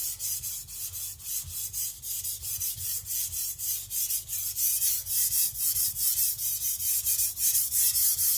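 A Tojiro shirogami nakiri knife being sharpened on a stone near its rounded nose, a steady rhythmic rasp of repeated strokes, close and continuous.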